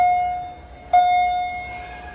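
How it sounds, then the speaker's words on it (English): A loud, sharp bell chime from a modernized traction elevator in a mall parking garage rings out once, then its clear tone lingers and slowly fades against quiet background hum. "That is a loud bell."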